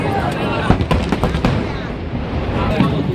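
Fireworks over Hong Kong at Chinese New Year, seen from a high vantage point: a steady, distant crackle and rumble with a few sharper pops, under a faint hum of crowd noise.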